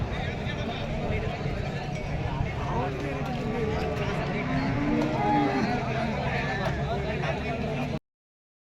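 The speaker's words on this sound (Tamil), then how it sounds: "கைக்கரவை மாடுகள்லாம் வந்துட்டுருக்கு பாருங்கள்" Cattle, including dairy cows, low and moo amid a busy crowd at the Seenapuram cow market in Tamil Nadu, with people talking throughout and steady background bustle.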